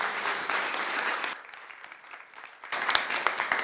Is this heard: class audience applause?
yes